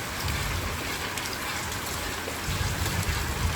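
Steady rain pours down on a Gujarati village farm during buffalo milking, a dense continuous hiss of drops on surfaces that holds even and close throughout.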